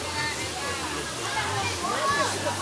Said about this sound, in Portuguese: É essa aqui que é a nascente, aí ela forma esse minúsculo rio